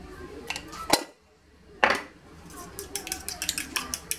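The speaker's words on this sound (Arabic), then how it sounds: "نخلط البيضه مزيان." An egg with a pinch of salt being beaten in a bowl: a few sharp clinks of utensil against the bowl, a pause, then a run of quick, light tapping and scraping strokes close by, with no talk.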